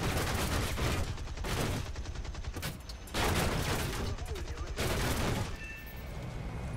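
Bomber gunners fire machine guns in War Thunder, bursts of rapid gunfire rattling in several waves over a constant engine drone, loud and dense, with brief lulls between volleys.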